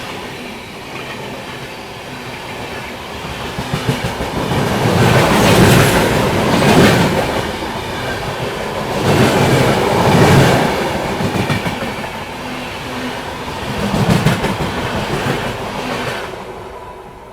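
The Machilipatnam Weekly Express pulls into Sanathnagar railway station with loud, close clickety-clack of wheels over rail joints and a heavy rumble that swells in repeated waves as the carriages roll past.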